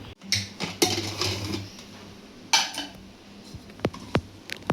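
A metal pressure cooker container holding steamed dhokla is opened and handled, giving several sharp clinks and scrapes of metal scattered among quieter gaps.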